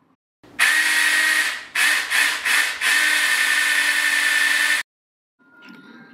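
A small one-handed cordless chainsaw, battery powered, cuts through a thigh-thick wooden log with a loud, steady buzzing whine that briefly dips several times mid-cut, then stops abruptly before a fainter tail of mechanical noise.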